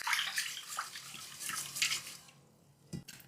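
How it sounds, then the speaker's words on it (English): 150 grams of Japanese short grain rice being washed in plenty of water, with close, continuous sloshing and splashing that fades near the end, followed by a single soft knock. "We're going to wash it and repeat this washing process 3 times."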